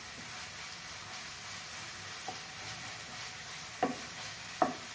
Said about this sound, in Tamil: இப்போது 3 பச்சை மிளகாய் கீறி வச்சுருக்கேன், அதையும் சேர்த்து வதக்கலாம்.